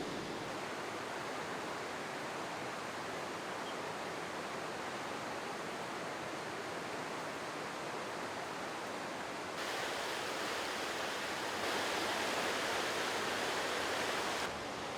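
A rushing creek in Idaho overflows a trail with a continuous, dense roar of water that stays loud and steady and swells slightly near the end, with no talking over it.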